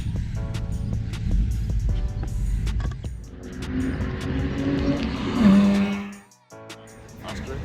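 A car spins out on a track, its engine roaring and tires squealing briefly before the noise drops off abruptly, with people chatting nearby under the engine sound.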